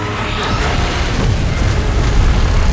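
A loud, sustained roaring blast of Godzilla's beam in PUBG Mobile, a dense rumbling boom lasting throughout without pause.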